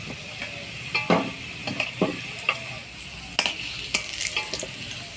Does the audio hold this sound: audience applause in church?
no